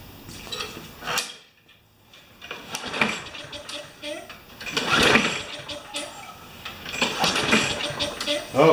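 A Craftsman lawn mower engine being pulled over and cranking without catching, in several separate bursts of mechanical churning and rattling, close by, with someone speaking in between.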